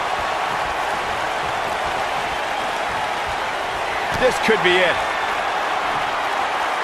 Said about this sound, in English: Wow, the crowd.